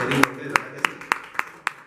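Clapping at a Spanish-language church service: about six sharp, evenly spaced claps in a slow steady rhythm, fairly close, with voices behind them at the start.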